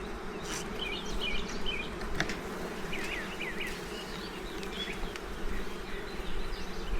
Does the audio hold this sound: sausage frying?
no